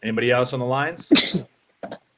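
A sharp sneeze bursts out right after a man's short spoken question, followed by a brief quieter sound.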